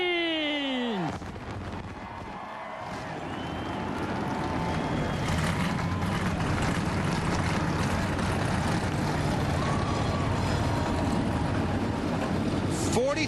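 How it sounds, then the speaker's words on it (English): Forty-three NASCAR stock cars at a 2005 Phoenix race roar to life together, a dense, loud, sustained engine rumble over crowd and fireworks, following a falling whistle-like tone at the start. "43 cars roar to life under the fireworks and in front of the fans"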